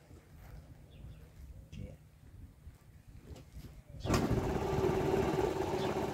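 A motorcycle engine from a 600, 125 or 50 cc comparison catches on the first try, jumping abruptly from quiet talk and background to a loud, steady idle that carries on to the end.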